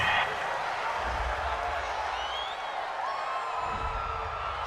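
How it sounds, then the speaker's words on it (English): A home crowd at a Saints vs. Titans NFL football game cheers and roars steadily after a fourth-down penalty call, with a broadcast commentator speaking over the noise. "This home crowd, they're happy with that call."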